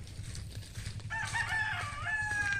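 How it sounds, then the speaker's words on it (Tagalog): A rooster crows in a drawn-out call over a background of chickens clucking and low rustling. "maraming mga alagang manok din kami dito sa village namin"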